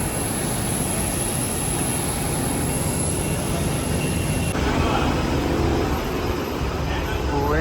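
Airplane engines whine and roar steadily at Bhubaneswar airport after landing, a loud continuous drone with a high-pitched tone that shifts partway through.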